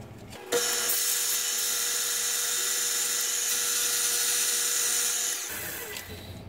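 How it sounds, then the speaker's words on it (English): A flywheel pattern for brass casting is sanded in one continuous, loud, steady grinding whine that starts abruptly, holds for about five seconds and then cuts off, leaving quieter room noise. "All right, we'll do a little sanding on that."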